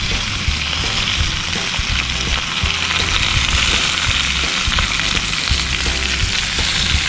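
Rice frying in a pan for a Norwegian Easter dinner, a steady loud sizzle that crackles evenly throughout, close up with no voices.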